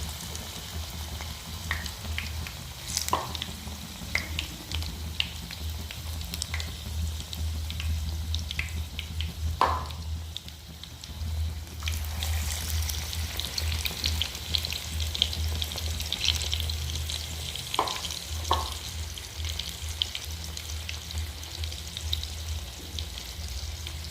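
Battered pumpkin flowers fry in hot oil with a constant soft sizzle, broken by a few sharper pops and the occasional clatter or scrape of a utensil as pieces are added and turned.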